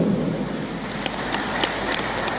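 Rain falls steadily with a dense, even hiss of drops pattering on a surface, with a few brighter splashes standing out, continuous and fairly loud throughout.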